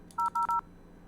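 Three short DTMF keypad tones from a desk phone calling a 3CX V16 ring group, clear and evenly spaced in quick succession with a brief pause after the first, against a quiet background.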